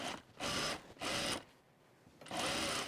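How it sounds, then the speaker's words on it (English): Sewing machine stitching a shirt seam, three short bursts of fast, even whirring stitches separated by brief pauses, close and clear. "All right, so we're going to sew this wrong sides together."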